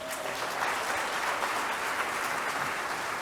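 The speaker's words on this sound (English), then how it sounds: "So give them a round of applause." An audience at a presidential candidates forum applauds steadily, a dense, even wash of clapping from many hands that holds at full strength throughout with no voices over it.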